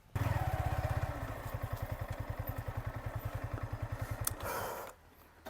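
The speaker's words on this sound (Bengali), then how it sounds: "ইঞ্জিন এক্সস্টের সাউন্ড বলেন সেই রকমের স্মুথ একটা সাউন্ড" A Yamaha XSR 155 motorcycle engine runs with a steady, even exhaust thump, close and loud, before cutting off near the end.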